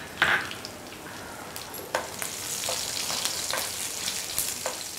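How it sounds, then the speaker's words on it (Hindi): Crushed garlic cloves frying in hot oil in a pan, a steady soft sizzle with a sharp burst at the start and brief crackles throughout, close and fairly quiet, with no talk. "ये लहसुन को हमें थोड़ी सी गोल्डन कलर होने तक फ्राई करनी है तेल में"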